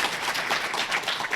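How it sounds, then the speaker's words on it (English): A brief burst of applause from an audience at a West Hollywood community reading and performance event, honoring the performers, with many hands clapping together in a short, dense wash. "can we get a round of applause for everyone who has performed yet tonight, please?"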